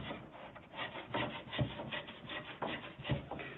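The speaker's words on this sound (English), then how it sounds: "You could use a smaller plane, but I just put a little bevel on this edge of the plank" A hand plane bevels the edge of a cedar strip for a canoe with repeated close rasping strokes of wood rubbing, steady in rhythm and fairly quiet, with no voices heard.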